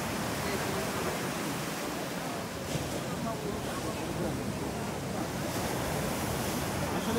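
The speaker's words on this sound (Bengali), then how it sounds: "আমরা একটু গর্জনের শব্দটা আপনাদের শোনানোর চেষ্টা করছি" Rough sea waves roar at Kuakata beach at night, a dense, unbroken wash of surf with wind buffeting the microphone, steady and loud throughout.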